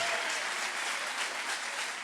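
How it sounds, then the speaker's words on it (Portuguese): A church congregation at a Portuguese-language celebration service applauds in a steady, dense wash of clapping that stays fairly faint and distant throughout, with no gaps. "Aplaude Ele mesmo."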